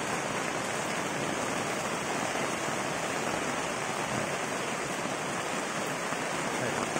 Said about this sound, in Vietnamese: Quá trời trời mưa luôn mọi người.